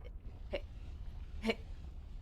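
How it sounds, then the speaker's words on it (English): Two faint, sharp hiccups come about a second apart over a quiet room hiss. "Oh, hiccups."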